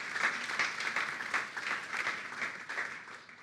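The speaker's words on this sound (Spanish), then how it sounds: "¿Cuántos dan un aplauso al Señor?" A church congregation at a Sunday service claps together in a fairly even rhythm. The beats are steady and moderately distant and carry on for a few seconds without speech.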